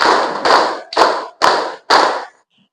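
A standing group claps in unison five times at a steady, even pace, each clap a broad, loud, sharp burst, then silence; at a women's PKK outreach competition in Menukung, Melawi.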